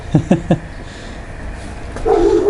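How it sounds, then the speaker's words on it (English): Household dogs in the background let out three quick, sharp yips, then a higher drawn-out whine follows after a short pause, fairly close in a home brewing setting. "I've got dogs, as you can hear in the background, so every now and then you get a dog here."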